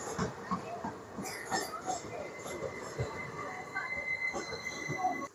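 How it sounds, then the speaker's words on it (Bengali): The Bhagirathi Express, train 13104, pulls out of Cossimbazar station with a rolling rumble, metallic clanks and squealing wheels. A faint voice can be heard in the background. "ছেড়ে দিল আমাদের ট্রেন কাশিমবাজার স্টেশন"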